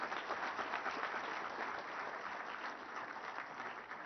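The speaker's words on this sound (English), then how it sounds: "Do you think our Honorable Minister or Principal Secretary deserve a good round of applause?" A large audience at a government launch event for an IT department annual report gives a sustained round of applause, an even wash of many hands heard from a distance.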